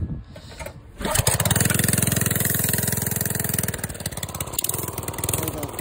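A Briggs and Stratton engine on a mini chopper catches after a brief pull and settles into a loud, rapid, steady putter nearby, with a slight dip in pace partway through.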